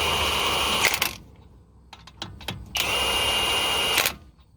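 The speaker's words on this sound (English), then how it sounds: "I'm just gonna put 2 lug nuts on here to hold the rotor in place" Power drill or impact driver running lug nuts onto a car's wheel studs to hold a disc brake rotor in place, two loud whirring bursts of about a second each, close up, separated by quieter metallic handling clicks.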